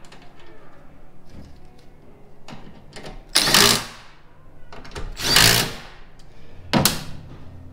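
A power driver runs tail light screws into a 2022 Toyota Tacoma, three loud whirring bursts near the mic, each about half a second, separated by quieter handling noise.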